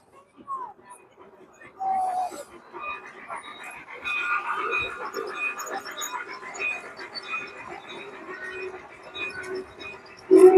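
Model garden railway trains decked out in Christmas decorations run at Longwood Gardens, a steady rolling rumble and rattle lasting most of the clip, with faint crowd murmur in the background.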